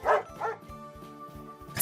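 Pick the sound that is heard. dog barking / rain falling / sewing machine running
dog barking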